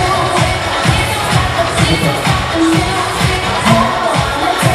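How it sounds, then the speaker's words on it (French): An audience at a live stage show keeps up a steady, loud wash of applause and crowd cheering, dense and continuous throughout, with scattered shouts rising above the clapping. "Je vous demande d'applaudir très fort, Corentin Mathias"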